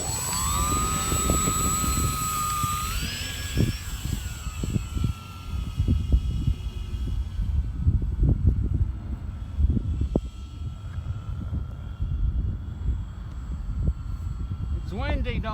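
A radio-controlled model plane's engine spools up with a rising whine for takeoff on a windy day, then fades into the distance. Gusty wind buffets the microphone and people talk throughout.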